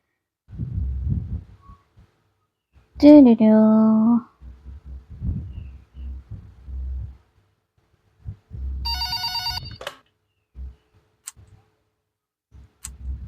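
A telephone in the horror video game Pikabuu Suster Jaga Malam gives a short burst of bright electronic ringing amid quiet footsteps and low thuds, heard close and alone.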